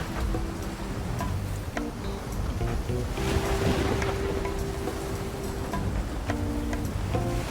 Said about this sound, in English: the churning waves seem to herald the arrival of a massive creature that's about to emerge from the bottom of the ocean